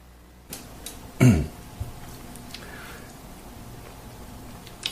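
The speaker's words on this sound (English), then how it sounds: "Excuse me, I need to cough." A single short, sharp cough from a man in a quiet room, one brief burst followed by faint small noises and near silence.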